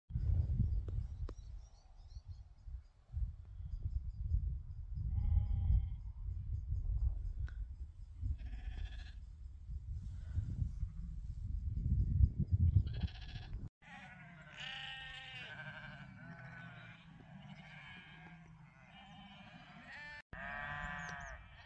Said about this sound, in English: Gotta start getting all the sheep in ready.